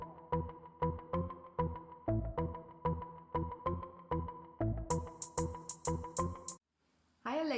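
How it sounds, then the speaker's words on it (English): A Google Home smart speaker plays a comedic fart sound effect, a series of rhythmic, repeated bursts at steady loudness, ending with a brief high electronic flourish and a short silence. "I'll fart again to clear all doubts"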